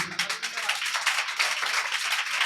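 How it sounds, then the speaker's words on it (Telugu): A church congregation claps hands together in a steady, rapid rhythm, a bright continuous patter filling the room throughout. "చప్పట్లు కొట్టండి ఇప్పుడు."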